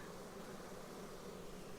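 A steady, faint buzz of Carniolan honeybees at a hive hums throughout, like many bees droning together at a distance, with no voices.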